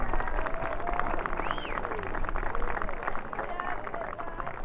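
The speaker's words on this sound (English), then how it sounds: "Let's give one big round of applause for all these recipients today." Audience applause for award recipients at an Army & Navy Academy academic achievement ceremony, a steady wash of clapping throughout with crowd murmur and faint voices beneath.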